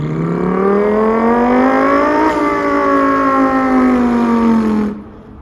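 A human voice imitates an Audi R8 V10 engine revving, a loud, buzzing hum that climbs in pitch, peaks, then slowly falls before cutting off abruptly.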